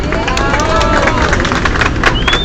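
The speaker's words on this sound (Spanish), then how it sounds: "Un aplauso para José Asunción." Applause and cheering from a crowd at a street storytelling event about the tram in La Candelaria, a dense, steady wash of clapping and hubbub close by, with scattered voices mixed in throughout.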